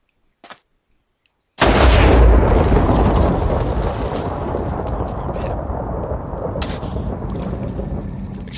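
Thunder in Minecraft from the Cyan Sword mod, a sudden loud crack that rolls into a long rumble and slowly fades.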